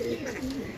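Pigeons at a bird sale give a short, close, soft throaty coo with a low warbling roll.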